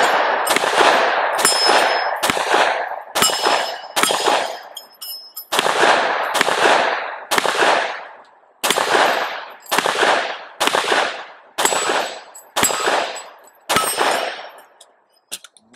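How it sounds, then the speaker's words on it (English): A Smith & Wesson Performance Center M&P9 M2.0 Compact Carry Comp pistol fires about fifteen rounds at steel targets roughly ten yards away, each sharp report followed by a ringing clang, in a steady, loud outdoor string. "Let's go ahead and shoot 15 rounds with the M&P comp."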